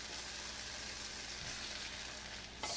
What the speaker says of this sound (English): I like to toast the chickpeas a little bit first to get a little bit of that fragrance going, and then I like to add the tomatoes